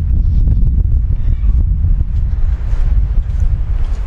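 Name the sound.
wind outdoors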